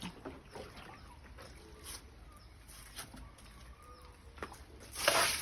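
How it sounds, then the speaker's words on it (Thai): Water runs down into a ditch beside a farm plot where herbal pest treatment is being applied, a faint, steady trickle and rush with a few louder splashing bursts toward the end. "น้ำไหลลงร้องไปแล้ว"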